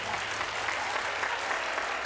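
Studio audience of the O Ses Türkiye 2018 TV show applauding, a steady, dense wash of clapping that holds at an even level throughout without any voices on top.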